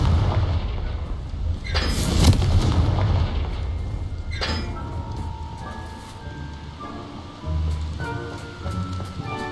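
The Confringo fire spell cast in Hogwarts Legacy, a sharp blast followed by a second burst and a rumbling boom, then quieter magical game tones and ambience.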